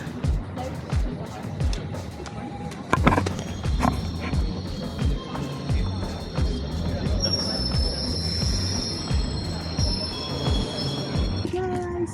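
A train to Stansted Airport rolls by with rumbling wheels and metallic clatter, a loud bang near the start and high wheel squeal later on, with voices talking over the noise.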